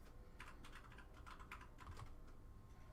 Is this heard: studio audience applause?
no